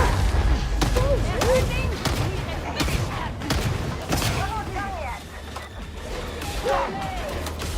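Bolt pistol shots in Warhammer 40,000: Darktide, fired at armored enemies amid a chaotic fight, with several sharp bangs and impacts spread through the clip over a steady din of combat noise, shouted voices and talk.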